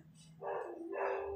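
A dog gives two quick, fairly faint barks, a short yip followed by a fuller bark, heard alone at some distance.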